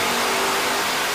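A loud, steady car engine roar at high revs on a Dynojet dyno fills the whole moment, harsh and close with no pauses.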